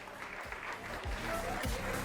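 Audience applause at the close of a school broadcast programme, a short burst of clapping from a small crowd with some voices murmuring underneath.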